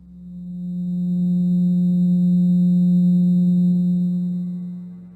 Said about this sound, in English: First, let's listen to what the 180 total degrees contained in a triangle sound like.